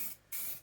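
Aerosol spray paint hissing onto WPL C74-1 RC truck parts, two close bursts of broadband hiss separated by a short gap, outdoors at night.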